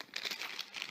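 Crinkly plastic wrapping rustled and pulled off a TV box remote control, a brief close burst of crackling with several quick crinkles, no talk.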